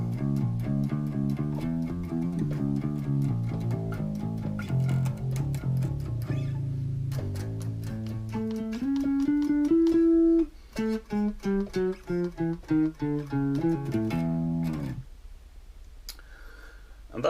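A bass guitar slowly plays up a Phrygian major scale, one distinct plucked note at a time, with clear pitch steps and short gaps between notes and no talking.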